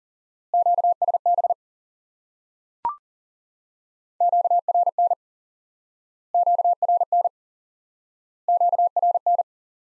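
Morse code tones with QSB fading, short bursts of rapid dits in a single repeated element at a steady pitch, separated by silent gaps, with one brief click partway through.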